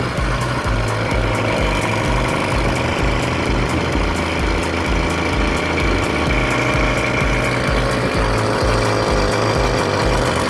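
A small combustion engine fitted to a bicycle chugs steadily at close range, a loud rhythmic putter with a buzzing, rattly edge, continuous throughout with no talking.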